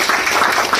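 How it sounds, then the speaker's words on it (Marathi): A crowd at a product launch during a zonal officers' meeting bursts into a brief, loud round of dense applause. "जोरदार टाळ्या।"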